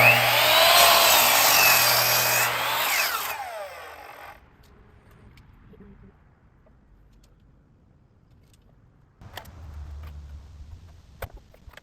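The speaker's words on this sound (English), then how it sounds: "So I'm going to get trimming." A power saw trims a roughly 90-inch wood piece for a staircase railing, a loud whining cut for about four seconds that stops abruptly, followed by quiet handling noises and faint clatter.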